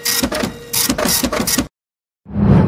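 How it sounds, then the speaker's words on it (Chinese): An office printer in a company office runs with quick rhythmic mechanical bursts, pauses in silence, then starts up loudly again. "今天公司没什么人，谁在用打印机？"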